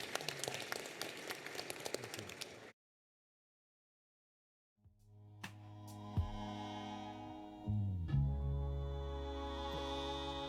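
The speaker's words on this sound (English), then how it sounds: "please give them another warm round of applause" A conference audience claps for a panel discussion on decarbonizing mining, with a few seconds of dense, even applause that stops abruptly into silence, followed by a swelling musical sting.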